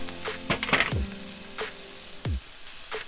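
Vegan food sizzles and fries in a pan, a close crackling hiss broken by several sharp clattering stirs and knocks against the cookware.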